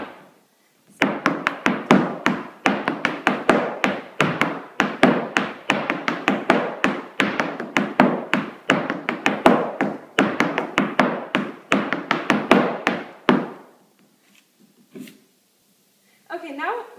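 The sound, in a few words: Irish step dance footwork: step, shuffle, hop, toe, hop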